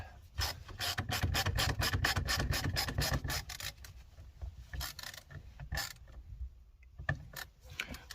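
Ratcheting screwdriver turning the body panel screws on a 1987 Toyota 4Runner, a rapid run of close, loud clicking pawl strokes, then slower, sparser bursts of ratcheting with short pauses between them.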